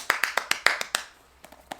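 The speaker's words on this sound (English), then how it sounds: "So round of applause." A short burst of about nine crisp, evenly spaced hand claps close by, loud at first and then trailing off into a few softer, scattered claps, with no voices.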